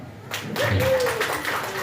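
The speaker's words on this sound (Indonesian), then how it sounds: "Tepuk tangan" An audience at an education stakeholder forum claps in a dense, moderately loud wash lasting under two seconds, with a voice faintly present in the background.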